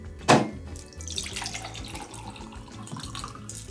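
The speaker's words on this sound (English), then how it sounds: "Pour the whole thing into a tall glass" A blended zombie cocktail with crushed ice is poured into a tall glass, starting with a brief splash and then settling into a soft, steady trickle of liquid nearby.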